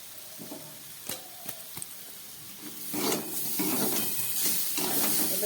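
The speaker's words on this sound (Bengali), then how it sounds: "আমি একটু আদা দিয়ে দিচ্ছি গ্রেট করে।" A piece of ginger is grated over a pan of chickpea greens: a few short rasping strokes, then a sizzle that swells and keeps hissing.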